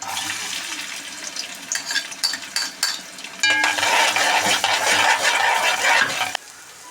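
Onions dropped into hot oil in a pot, first clattering and stirring, then a loud, steady sizzle of frying that cuts off abruptly near the end.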